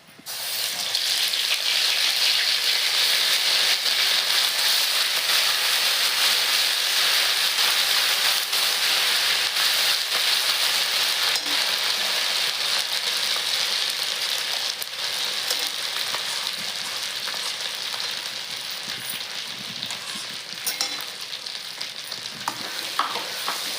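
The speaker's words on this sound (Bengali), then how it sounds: "একটু জিরা ফোড়ন দিচ্ছি আপনারা কালো জিরাও ফোড়ন দিতে পারেন তেজপাতা আমি খালি জিরা পোড়ন দিচ্ছি ব্লেন্ড করে রাখা মশলাটা দিয়ে দিচ্ছি" Cumin seeds and a blended spice paste sizzle steadily in hot oil for a Bengali prawn malai curry, a loud, continuous frying hiss with occasional stirring and no voices.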